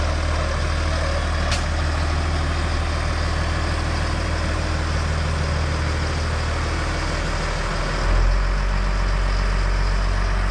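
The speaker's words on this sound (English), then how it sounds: "It's got a Deutsch 175 horsepower air-cooled engine in it. It sounds beautiful." A JCB digger's Deutz 175 hp air-cooled engine runs steadily at a low, rumbling idle, close and continuous, with a brief deeper swell near the end.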